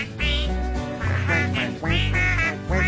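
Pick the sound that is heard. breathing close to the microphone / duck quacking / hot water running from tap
duck quacking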